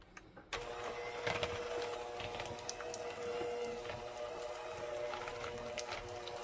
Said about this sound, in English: So I'm going to go ahead and use a hand mixer. It might get a little bit noisy for a minute here.